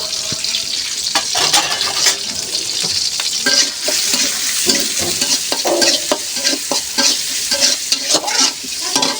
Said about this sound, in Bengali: আর পেঁয়াজ কুচানো পেঁয়াজ আর রসুনটা দিয়ে দেব, দিয়ে লাল লাল করে ভেজে নেব